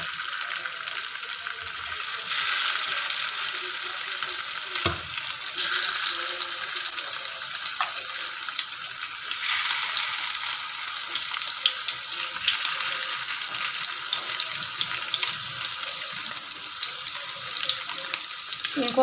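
Chicken seekh kababs shallow-fry in hot oil in a pan over medium heat. A steady, close, crackling sizzle runs throughout with a few faint clinks, and no clear talk.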